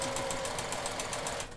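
A sewing machine stitches fabric face masks, a brief rapid mechanical chatter at an even rhythm, close and steady, with no one talking.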